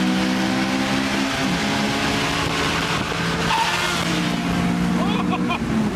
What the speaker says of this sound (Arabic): هو مشاهدة هوندا اس 2000 وهي تسوي ماني شيفت